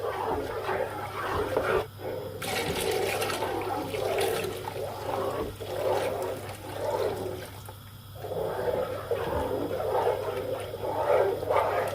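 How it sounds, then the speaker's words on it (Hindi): Water, about 3 to 4 litres, is poured into Punjabi kadhi pakora batter on a high flame and stirred in, making a steady rushing, sloshing wash with splashy bursts and faint scraping throughout. "अब इसमें मैं पानी ऐड करूँगी और साथ में मिक्स करती जाऊँगी इसको।"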